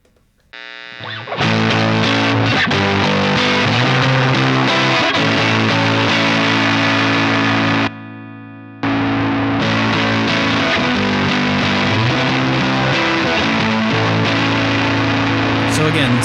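Electric guitar played through a Boss BD-2w overdrive pedal at higher gain settings, loud distorted chords and riffs ringing continuously with a brief dip in the middle before resuming.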